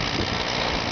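A Massey Harris Pony tractor engine runs steadily outdoors in the snow, a constant close mechanical drone with no pauses or voices.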